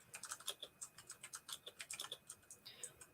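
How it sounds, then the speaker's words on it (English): Computer keyboard typing, a quick run of light, crisp clicks in an uneven rhythm, close and fairly faint, with no talking over it. "I love the little clicky clicks."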